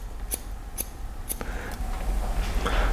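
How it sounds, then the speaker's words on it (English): Scissors point-cut into thick, straight hair during a long haircut, giving three crisp, close snips in a steady rhythm followed by softer, quieter cutting against a low background hum. "I'm going to point cut into this as well."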